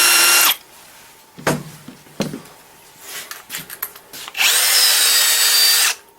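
Bosch GSR 12V-35 cordless drill driving a screw at maximum torque in first gear: a loud whirring burst at the start, scattered clicks and knocks, then a long steady high whine before stopping.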